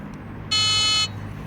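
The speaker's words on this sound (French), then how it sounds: "On a un klaxon quasiment de type scooter." A single short electronic horn beep from a Cunfon RZ1000 dual-motor electric scooter, bright and buzzy, lasting about half a second over a quiet background hum.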